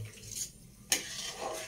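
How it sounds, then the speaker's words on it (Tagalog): A utensil stirs food in a kawali frying pan, with soft scraping and one sharp metallic clink near the middle of a short, quiet stretch. "Haluin na natin sa kawali."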